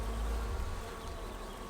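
Honey bees on a frame of brood comb during a hive inspection hum in a dense, steady buzz up close, continuous and alone with no voices.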